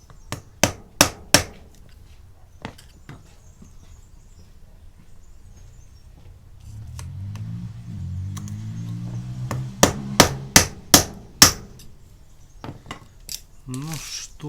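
A hammer drives a screwdriver against a tight fitting in a Toyota Corolla E150 car door, sharp metallic strikes in quick bursts at the start and again near the end, with quieter handling noise between.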